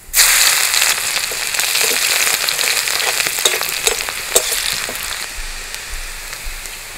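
Garlic hits hot oil tempered with mustard seeds for a fish curry, bursting into a loud, crackling sizzle that tapers gradually, scattered sharp pops of spitting seeds throughout; close and continuous, with no talking.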